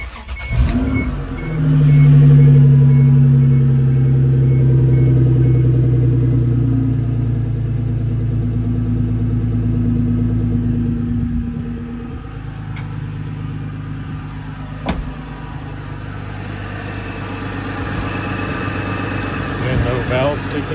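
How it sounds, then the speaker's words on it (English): A 2001 Isuzu VehiCROSS engine cold-starts with a loud catch, then settles into a steady rumbling idle whose pitch gradually drops, with a couple of sharp clicks along the way. "we'll go back and give it a couple of revs, since it'll be a few seconds of oil pumping through the engine"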